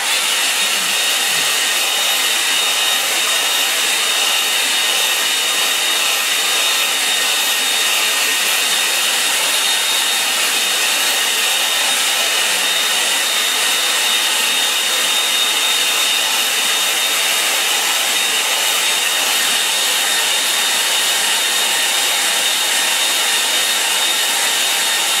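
Hair dryer blowing on a watercolour painting of a lake, a loud close steady whooshing roar that runs unbroken for about twenty-five seconds with no talking.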